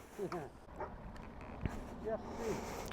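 A dog barks and yips a few times in short bursts outdoors by the sea, moderately close, with someone speaking intermittently around the barks.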